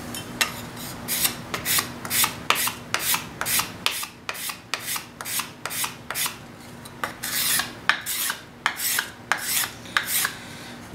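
A wooden spoon being carved and smoothed by hand gives a steady run of short, rhythmic rasping strokes on wood, close and clear, about two strokes per second with brief pauses.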